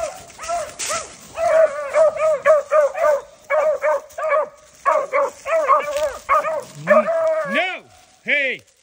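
Beagle puppy yelping in rapid short barks mixed with rising whimpers and whines, loud and close in an uneven series of bursts.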